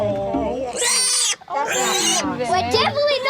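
Baby piglets squeal loudly and shrilly in overlapping, rising bursts, close by and nearly continuous, with a short gap in the middle.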